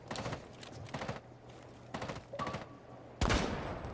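Gunfire rings out in a Rainbow Six Siege match: several short bursts of shots spaced out over a few seconds, with a sharper, louder crack near the end, all at a fairly low level.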